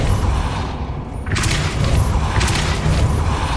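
A Depulso spell cast in Hogwarts Legacy, a forceful booming thump followed by crackling bursts, loud and close amid dense game background noise.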